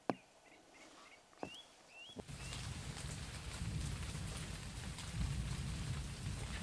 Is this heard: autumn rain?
yes